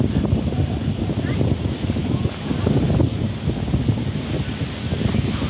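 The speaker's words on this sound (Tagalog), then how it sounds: "napakalakas ng hangin" Strong wind at Tai Tam Reservoir, Hong Kong, buffets the microphone in a steady, loud roar with gusty low rumbling throughout, no voices heard.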